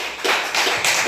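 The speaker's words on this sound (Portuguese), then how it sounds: "Jesus, pode aplaudir Jesus," A church congregation claps during a sermon. The clip holds a few loud, close bursts of clapping that come in short pulses, with no talking over them.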